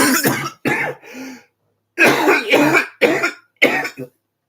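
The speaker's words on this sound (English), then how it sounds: "Man, I cannot stop coughing." A man coughs in several harsh bursts, a short run, a pause, then three more hacking coughs close to the mic.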